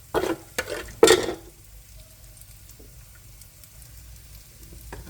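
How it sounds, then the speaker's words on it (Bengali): Whole bay leaf, cinnamon and cardamom hit hot oil left from frying chicken, giving a few sharp sizzling bursts in the first second, then a faint, settling crackle with occasional small pops. "এখন তেজপাতা, দারচিনি, এলাচ দিয়ে ওই তেলটাতে আমি দিয়ে দেব।"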